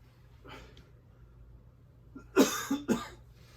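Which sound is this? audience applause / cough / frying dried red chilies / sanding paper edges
cough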